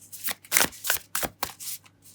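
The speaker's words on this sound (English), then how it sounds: "I kind of wanted to show you guys how to shuffle this deck really badly" Oracle card deck being shuffled by hand, a run of quick papery riffles and slaps in bursts of several strokes, close and fairly loud with no talking.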